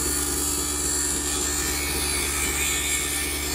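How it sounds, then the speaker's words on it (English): Wood lathe spinning a wooden honey dipper at speed, a steady loud whirring hum with continuous cutting rasp, close and unbroken with no talking. "we'll start our lathe slow, crank up the speed. We just need to take off maybe another 1/16 of an inch."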